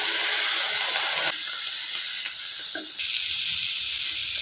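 Garlic, curry leaves and coriander sauté in a pan as greens for ponnanganni keerai thuvayal are cooked, giving a steady broadband sizzling hiss that drops in intensity partway through, with no talk.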